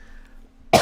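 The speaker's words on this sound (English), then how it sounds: "Sorry for the cough." A single short, sharp cough bursts out near the end of an otherwise quiet stretch with faint background hum, close and fairly loud.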